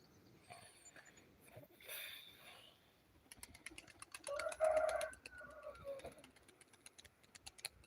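Tumbler pigeons around a loft, with soft cooing and bird calls in the distance, joined midway by a steady flutter of wingbeats and a louder burst of activity. Someone talks intermittently.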